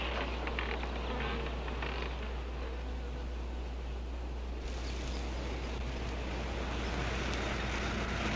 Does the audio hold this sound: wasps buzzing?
yes